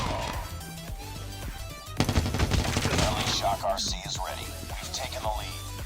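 Automatic gunfire in Call of Duty Mobile, bursts of shots from about two seconds on over a steady game music bed, with a voice talking throughout.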